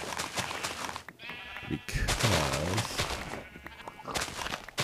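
Sheep in the video game Minecraft bleat several times, with clear wavering baas in the middle, as someone talks over the game sounds.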